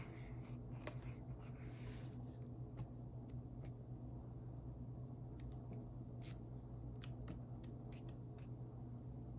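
Scissors snipping through a sticker sheet from a sticker book, a scattering of quick, faint crisp cuts over a steady low background hum.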